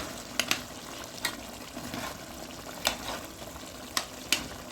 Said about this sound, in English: I'll just stir it. Now let it cook.